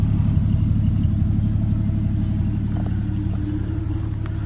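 A 1950 Chevy Deluxe hardtop with a 235 engine and dual exhaust runs steadily, a close, even low rumble with no misfires, alone with no talk.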